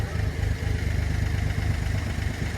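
Engine running steadily and fairly loud, a continuous rumbling drone with clattering texture, fitting a tractor approaching near an orchard during tree pruning and root removal.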